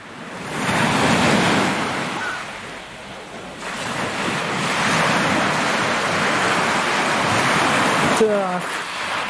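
Sea waves roll steadily onto the shore at Feodosia, Crimea, in cold January weather, a loud continuous surf wash with gentle swells and wind buffeting the microphone, and a brief voice near the end.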